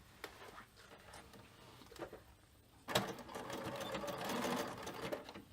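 A sewing machine runs zigzag stitches back and forth across the frayed fabric ends of a bicycle frame bag, in short bursts, then a longer steady whirring run.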